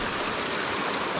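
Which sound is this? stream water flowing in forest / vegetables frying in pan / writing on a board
stream water flowing in forest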